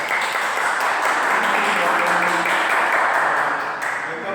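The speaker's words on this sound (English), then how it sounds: "Let's give her a round of applause" A television talk show studio audience applauds as a guest is introduced, a loud, dense burst of clapping filling the room and continuing steadily, with some voices mixed in.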